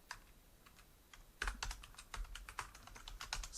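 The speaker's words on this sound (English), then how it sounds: "we'll just type in squall" Keys clatter on a computer keyboard in quick irregular bursts, close and clear, quieter at first and then busier typing, with no voices.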